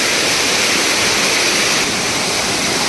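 A jungle stream near Bhimashankar rushes loudly and steadily, a dense continuous roar of flowing water filling the whole clip with no voices.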